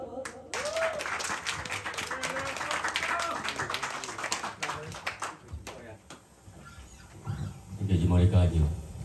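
Concert audience giving a singer a welcoming round of applause at an autumn music night in Edmonton, scattered clapping running under an announcer's voice and faint chatter before a low musical swell rises at the end.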